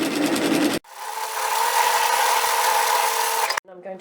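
A sewing machine hums steadily for nearly three seconds while stitching through a length of nightgown strap, loud and close, framed by brief bits of talk before and after.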